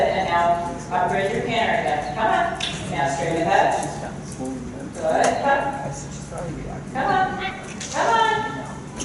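A horse cantering at a riding clinic makes rhythmic, muffled hoofbeats on soft footing, heard under an instructor's continuous coaching.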